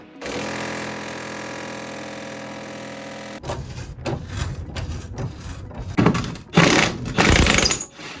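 An impact wrench works on a rusted body mount bolt of a Ford E-350/E-250 Econoline van: a steady whirring buzz gives way to rattling, hammering bursts that come in uneven loud spurts.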